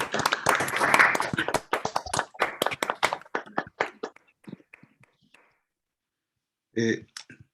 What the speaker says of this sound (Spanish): abran su micrófono y demos un aplauso